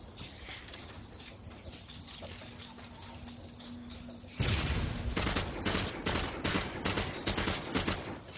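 Call of Duty: Modern Warfare 2 gunfire in a competitive match, starting as faint distant shots under a muffled background, then turning into loud rapid bursts that keep repeating.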